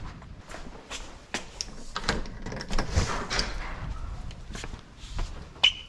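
A residential garage door is popped open during a home solar system inspection, with a series of clattering knocks and rattles at moderate distance and no talk.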